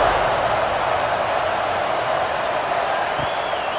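Steady stadium crowd roar from a College Football 26 simulation of Penn State vs UCLA, building before a kickoff; a dense, even wash of cheering voices runs unbroken throughout.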